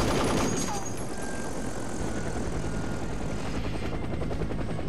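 A helicopter in the PlayStation 2 game 24: The Game gives off a loud, steady rotor roar with a continuous wash of noise that fills the whole stretch.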